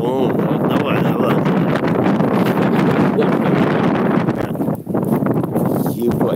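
Heavy wind buffets the microphone in a constant loud roar, with rumbling gusts and a brief dip before the rush returns.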